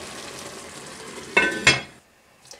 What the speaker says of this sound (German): Ich rühre einmal durch und jetzt kann es weiter kochen.